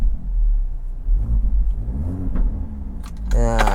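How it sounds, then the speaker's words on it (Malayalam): A Kia Seltos with a stage 2 full-system valvetronic exhaust rumbles deeply at idle, swelling into a short rev near the end, with voices talking over it. "ഇനി എക്സോസ്റ്റ് സൗണ്ട് ഒന്ന് ഞാൻ കേൾപ്പിച്ച് തരാമേ."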